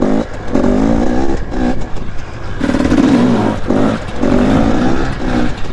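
A dirt bike engine revs hard in second gear while the rider attempts a wheelie. It is loud and close, surging and dropping in repeated throttle pulses.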